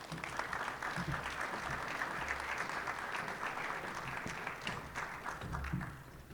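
A crowd applauds steadily at a sports hall of fame induction ceremony in Rialto, welcoming the CEO of NSG to the stage. The dense clapping stays loud and even throughout, with a few low thumps beneath it.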